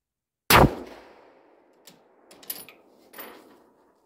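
Single sharp gunshot at outdoor shooting practice on a cold day, a loud close crack with a ringing decay, followed by faint mechanical clicks and handling noises.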